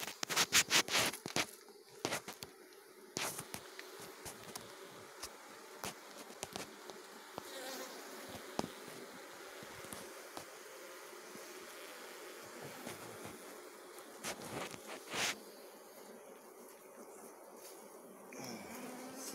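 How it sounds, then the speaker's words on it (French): Honeybees buzz around an open hive during an inspection, a faint, steady hum with many close passes of individual bees. Sharp crackles and knocks come from handling the hive throughout. "t'as des abeilles sur toi, tu fais gaffe"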